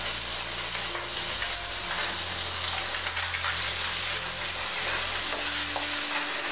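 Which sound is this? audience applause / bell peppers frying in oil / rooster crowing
bell peppers frying in oil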